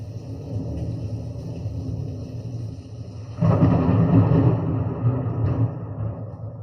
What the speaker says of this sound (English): Okay, let's hear the thunder.